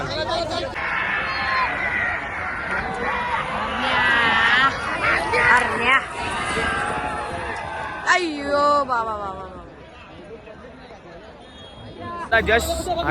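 Lively crowd celebration after a winning run at a bullock cart race, with dense shouting, whooping and babble close by and people talking over the din throughout.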